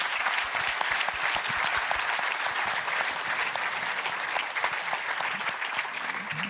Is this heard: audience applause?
yes